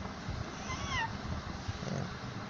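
A young child imitates a cat, giving one drawn-out, falling meow in a quiet room; a faint low murmur lingers afterward.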